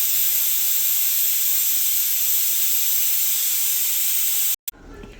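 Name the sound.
pressure cooker whistle releasing steam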